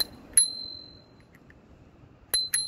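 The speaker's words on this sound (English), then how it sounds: "I just accidentally hit my bell." A bicycle bell is struck by accident during a city ride, giving one bright metallic ding that rings out and fades, followed near the end by two more quick rings, with faint background hum.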